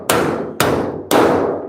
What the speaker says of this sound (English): Let's hit this with a rubber hammer and figure it out.